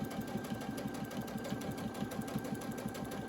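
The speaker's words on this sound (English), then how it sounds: "So I'm just going to start sewing this down." A sewing machine stitches down quilt binding, a steady fast mechanical chatter with an even rhythmic pulse running close and continuous throughout.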